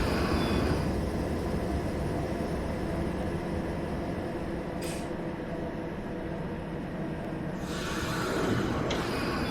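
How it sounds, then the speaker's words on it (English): A Class 456 electric train, unit 456024, rolls into a station with a steady, close rumble of wheels and motors, punctuated by a couple of short hissing bursts as it arrives. "Here 456024 arrives into Giles Mount with an afternoon service."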